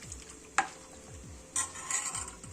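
Methi kadhi gole, a Vidarbha curry, stirred in a pan while it heats on the stove: a few soft scraping strokes and clinks of the spoon against the pan, with a faint simmer behind.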